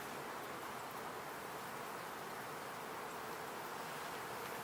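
Honeybees swarm around an opened hive during an inspection after smoking, a dense steady buzzing drone that stays constant and close throughout.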